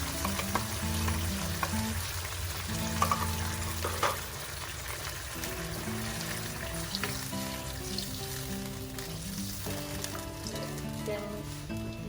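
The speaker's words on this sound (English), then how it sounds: "Coconut milk goes in." Green chicken curry with coconut milk added, sizzling and simmering steadily in the pan with stirring scrapes, under background music.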